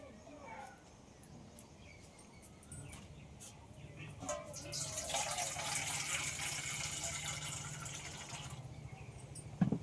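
Water pours over cooked rice layered with lemon leaves for panta bhat: a soft, steady close trickle builds midway and keeps running, with a person talking around it.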